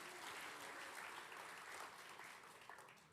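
A church congregation applauds for God during a sermon, giving a steady, dense wash of many hands clapping at moderate distance that carries on without a break.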